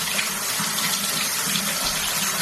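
Water runs steadily into a filled bathtub, a continuous splashing rush with a low hollow tone, unbroken throughout and close by.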